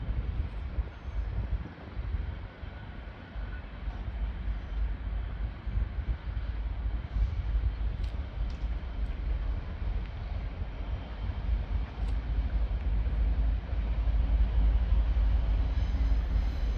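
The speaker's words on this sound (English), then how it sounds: "first freight of the day will be a freight line of 66" A Class 66 freight train rolls past on the West Coast Main Line at Nuneaton with a continuous heavy low rumble of wagons. Wind buffets the microphone and the rumble swells toward the end.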